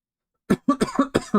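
A quick run of four or five harsh coughs, close and loud, after a moment of silence.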